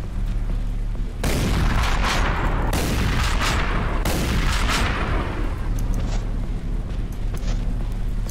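Heavy shotgun blasts boom out loud and close in the retro-style shooter Hellscreen, several shots in quick succession after a brief lull, with long rumbling tails that blur into one another.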